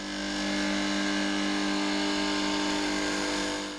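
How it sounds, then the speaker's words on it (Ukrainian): A bench grinding machine smooths and trims the edge of a prosthetic leg socket in an orthopedic workshop, giving a loud, steady, continuous whine with no talk. "Кілька професійних рухів за шліфувальним станком"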